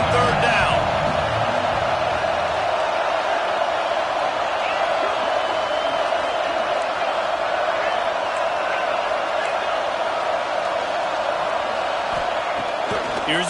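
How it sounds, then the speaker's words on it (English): A stadium crowd in the NCAA 26 college football video game roars on third down, a dense steady wall of noise that stays loud throughout, with a voice speaking over it. "Decibels rising as the crowd gets behind this defense on third down."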